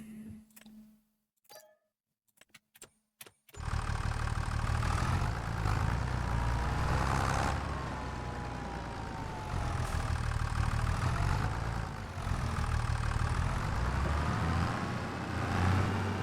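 A tractor in Farming Simulator idles with a steady low engine drone and a faint ticking, holding on after a few short clicks and taps at the start.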